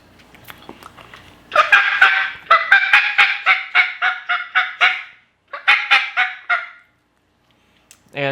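Cheap Tom Teaser turkey calls blown by a hunter to imitate a turkey, loud nasal honking yelps in two rhythmic runs of rapid notes with a short gap and a brief final squeak.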